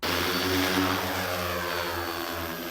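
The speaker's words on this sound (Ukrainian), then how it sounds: "Після роботів наземних за роботу беруться вже важкі дрони-бомбери." A heavy bomber drone carrying a supply parcel of food and water takes off at night, giving a loud, steady propeller drone with a constant hum and no voices.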